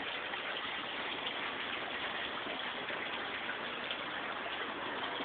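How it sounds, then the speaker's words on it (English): Water drains steadily from an aquaponics tank filled with BioMarbles biofilter media, a continuous rushing, splashing wash that stays even and close from start to finish with no voices. "tank is filled and it's draining."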